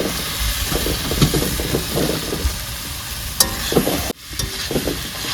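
Spices being stir-fried in a big village cooking pan, with a continuous sizzling hiss, scraping stirs and occasional clanks of the spoon, close and fairly loud.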